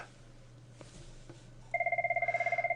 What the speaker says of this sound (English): excuse all these phones ringing here.